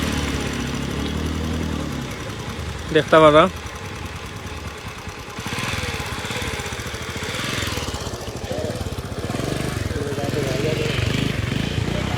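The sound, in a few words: motorcycle struggling through flood water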